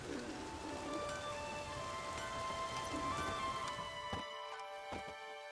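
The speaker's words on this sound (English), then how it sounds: "There's no point standing here in the rain." Rain falls steadily in The Witcher 3 video game, a soft, continuous patter on surfaces at low level with faint incidental ambient tones, no talking.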